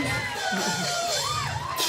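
A live comedy-show crowd cheers, whoops and claps loudly for a drummer, with excited voices and shouts rising over a continuous wash of applause.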